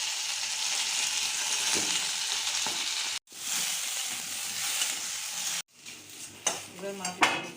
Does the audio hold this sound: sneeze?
no